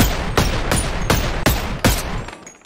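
Rapid gunfire bursts in a Western-style multiplayer shooter video game, about five sharp volleys spaced roughly every half second, loud and close over a steady game background.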